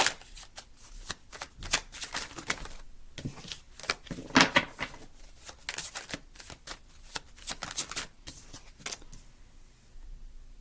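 Tarot cards are shuffled repeatedly in quick riffling bursts with brief pauses between, close and crisp, no talking.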